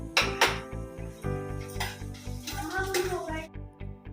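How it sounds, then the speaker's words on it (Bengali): Onions being fried into crispy beresta for biryani, with repeated clanks of a spatula against the pan in a steady rhythm and a soft sizzle beneath, close by. "বিরিয়ানিতে দেবো বলে পেরেস্তাটা ভেজে নিচ্ছি"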